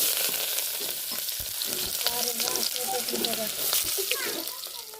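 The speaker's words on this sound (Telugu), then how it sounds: "ఉల్లిపాయ పచ్చిమిరపకాయలు ఫ్రై చేసుకోవాలి." Onions and green chillies fry in a pan over a wood-fired stove, giving a continuous hissing sizzle with occasional stirring, while a voice talks over it.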